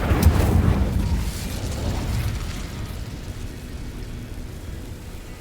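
An Incendio fire spell in a Hogwarts Legacy-style game erupts with a loud whooshing blast of flame that then settles into a steady, crackling roar that gradually fades.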